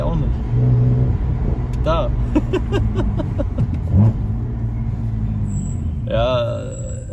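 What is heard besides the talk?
BMW 330i N52B30 engine with performance exhaust revving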